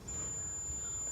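A single very high, pure whistling pitch, the highest flute note of a pipe organ, sustains steadily over a faint low rumble.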